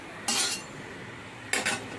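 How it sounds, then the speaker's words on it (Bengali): Semolina and potato are stirred in a little oil in a wok, with two short, bright metallic scraping strokes of a spoon against the pan about a second apart, close and otherwise quiet. "এবার এই তেলটার মধ্যে আমি সুজি আর আলুটাকে একটু হালকাভাবে নেড়ে নেব।"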